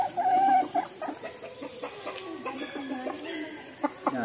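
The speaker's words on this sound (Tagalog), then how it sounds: "Magpakain muna tayo ng ating mga alagang manok" Backyard chickens, including four-month-old birds, clucking and calling at close range at feeding time. Several short, overlapping clucks with one louder call at the start, and no talk.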